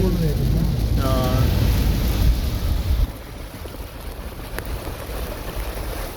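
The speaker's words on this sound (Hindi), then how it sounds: "भाई हो गए स्टार्ट तूफानी बारिश।" Steady, heavy storm rain in Dubai roars close by as a dense wash of noise, easing slightly partway through, with a brief low rumble underneath.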